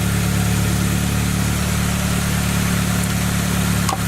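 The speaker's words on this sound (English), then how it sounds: "we are just gonna see if it turns over" A Saab 9-3 engine idles steadily after a loose starter was fixed, a continuous low hum with even harmonic drone that holds level throughout, close by and alone.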